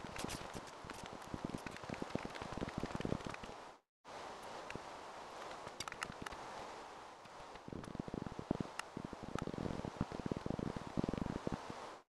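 Rain falls steadily in the Minecraft video game, a continuous soft hiss with scattered clicks and footstep-like taps, briefly cutting out once, with no talking.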